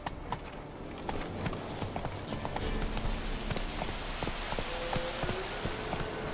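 Roach, Geralt's horse in The Witcher 3, gallops at a steady, rhythmic clip-clop of hooves close by, over a constant outdoor ambience and with no speech.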